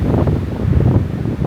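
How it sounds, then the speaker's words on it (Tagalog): Strong wind buffets a campsite at Montana Villa in Malico, Pangasinan, a steady, loud low roar pressing on the microphone with gusty swells and no voices. "Lakas ng hangin."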